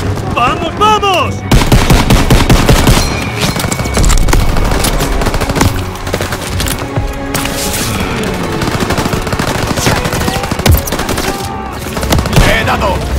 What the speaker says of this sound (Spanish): ¡Ametralladoras en el granero!